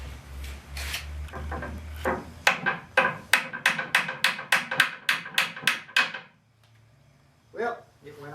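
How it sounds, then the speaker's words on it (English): A hammer strikes wood during a back glue-up in a woodworking shop, a rapid run of about a dozen sharp, close taps following some scraping, then a pause and one last knock; someone speaks around the blows. "Need to swing my hammer a little bit squarer than that."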